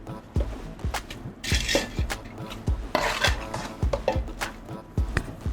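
Whole spices being rubbed and crushed by hand for a Hyderabadi biryani, giving repeated close scraping, rasping strokes and small clinks at an uneven rhythm, with brief louder rustling bursts.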